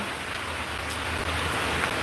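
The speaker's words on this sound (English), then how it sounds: "until it stops raining, I'm gonna go" Steady rain falling outdoors, a constant close, even hiss of drops with no pauses and no voices over it.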